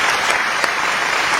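Audience in Dubai giving a performer, Ankita Singh, a warm welcome with loud, dense applause that holds steady for the whole short stretch.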